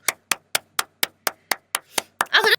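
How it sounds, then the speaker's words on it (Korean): A few people clapping in a slow, spaced unison rhythm, about ten sharp, close claps that quicken slightly and end in a brief burst of voices. "박수. 박수!"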